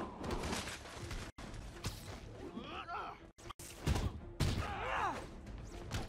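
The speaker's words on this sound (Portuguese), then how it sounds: "Vou jogar o lixo na cabeça de alguém." Trash flung at an enemy's head during a street fight in Spider-Man PS4, with several whooshes, thuds and crashing impacts amid game effects and brief silent gaps.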